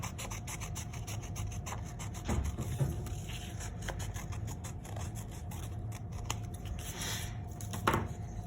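Scissors cutting through folded drawing paper, a fast run of short rasping snips at close range with a few louder scrapes and no talking.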